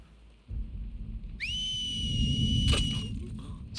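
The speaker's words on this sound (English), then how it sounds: "You're whistling all your friends over." An enemy whistling in The Last of Us Part II gives a clear, steady whistled tone lasting under two seconds, over a constant rumbling backdrop like rain.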